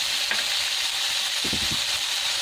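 Tomatoes tipped into a pan of frying onions: a steady, bright sizzle throughout, with a short low clatter of food hitting the pan partway through, close and alone.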